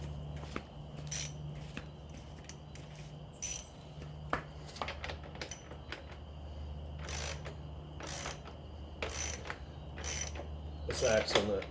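A ratchet wrench tightens the axle nut on a Sur-Ron Ultra Bee electric dirt bike, giving short bursts of quiet clicking with metallic clinks in between and a steady low hum behind, with no talking.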